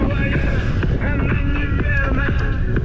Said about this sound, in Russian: Капец ветер.